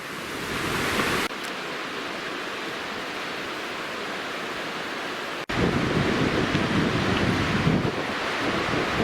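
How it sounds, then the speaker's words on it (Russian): Rushing waters of the Kalash river in the mountains of Pakistan, a loud, continuous broadband roar that holds steady with abrupt level shifts, no voices. "А это бурные воды реки Калаш."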